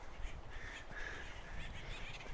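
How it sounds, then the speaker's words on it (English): Woodpeckers call energetically in oak woodland near the Stonewall Mine area of Cuyamaca Rancho State Park, giving repeated harsh, squawky calls at moderate distance over steady outdoor ambience. "These are some very energetic, very passionate birds."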